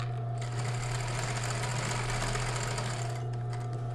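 A sewing machine runs a backstitch, a steady close mechanical whir with a fast needle rhythm and a low motor hum, with no talk.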